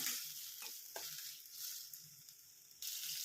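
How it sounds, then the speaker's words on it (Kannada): Finely chopped tomatoes frying in a pan for an eggplant palya, a faint, soft hiss with a few light stirring scrapes and small bursts. "ಟೊಮೆಟೊ ಸಣ್ಣಗೆ ಹಚ್ಚಿಟ್ಕೊಂಡಿದ್ದೀನಿ ಅದನ್ನು ಹಾಕ್ಕೊಳ್ಳೋಣ ಚೆನ್ನಾಗಿ ಫ್ರೈ ಮಾಡ್ಕೊಳ್ಳೋಣ"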